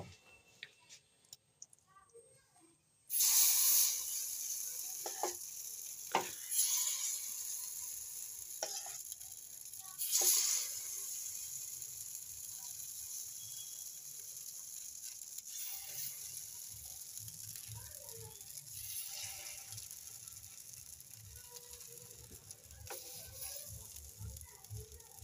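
Appam batter meets a hot oiled pan with a sudden loud sizzle that settles into a steady frying hiss, broken by a few clicks and scrapes of stirring, close by.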